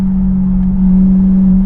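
A Chevrolet Corvette C8 Stingray engine droning steadily at close range, a loud sustained low hum with no talk over it.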